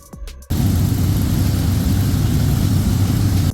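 Vehicles are driven off a cargo ship carrying tractors, tankers and containers. A steady, loud engine rumble with a low drone fills the hold after a brief quieter opening, and no one talks.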